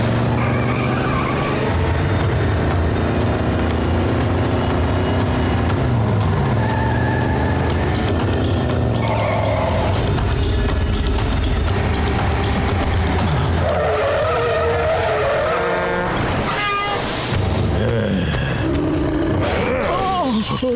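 Cartoon car chase after a tanker truck, with loud squealing, skidding tires and roaring engines running continuously, crashing and shattering noises mixed in near the end.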